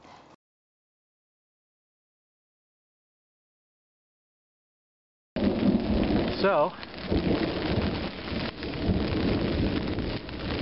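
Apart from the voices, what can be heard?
thunder and rain during a rainstorm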